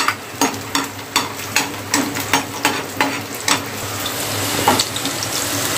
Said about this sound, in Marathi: लसूण पण आपण चांगला कलर येईपर्यंत थोडासा फ्राय करून घेऊया.